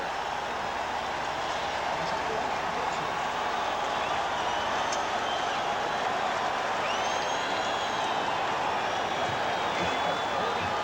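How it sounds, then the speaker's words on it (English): New England Patriots fans cheering in the stadium at a 1985 AFC Championship football game against Miami, a steady dense crowd roar heard from a distance that holds level throughout. "and the Patriot fans cheer."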